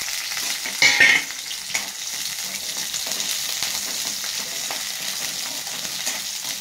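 Onions, green chillies and curry leaves frying in hot oil for egg Maggi, a steady close sizzle with a brief louder burst of spattering near the start, then an even crackle throughout.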